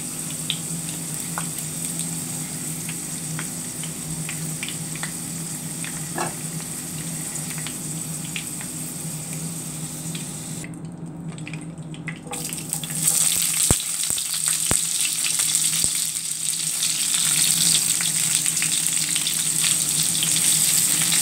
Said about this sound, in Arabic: بالبداية أنا راح أقلي البوتيتا وأقلي البصل